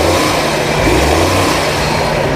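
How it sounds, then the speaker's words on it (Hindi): A 1990 Suzuki Mehran car engine idles steadily after starting, a smooth, even, fairly loud low rumble that runs unbroken, with no voices. "गाड़ी स्टार्ट की है, सिंगल सेल्फ की गाड़ी स्टार्ट हुई है और माशाल्लाह इंजन में कोई साउंड नहीं है"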